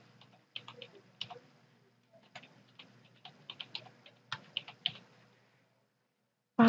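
Typing on a computer keyboard to fill in a registration form, in quick bursts of light clicking keystrokes with brief pauses, recorded close in a quiet room.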